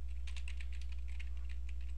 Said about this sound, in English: You can see that typing is not one of my strengths.